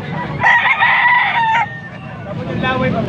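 Gamefowl stag crowing at a gamefowl sale in Angeles, Pampanga, one loud close crow of about a second with a ragged tail, then quieter bird sounds and a faint voice in the background.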